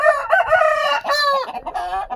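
A native country fighting rooster of the Nemali type, a veteran of two fights and now nursing wounds, lets out one loud, close crow with a long, wavering final note.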